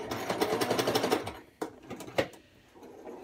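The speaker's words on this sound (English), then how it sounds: "I'm going to take my pin out, put in a couple more stitches" Sewing machine stitching fabric while sewing a dart: a rapid, even run of close mechanical stitching clatter, then a pause followed by a few slower, separate stitches.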